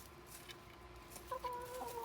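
Soft clucking from chickens nearby, a few short murmuring calls over a quiet outdoor background.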